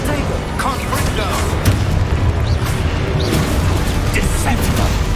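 Booming spell blasts from the Confringo fire spell in the video game Hogwarts Legacy, loud and repeated amid constant game action, with other spell sounds mixed in and a voice calling out at points.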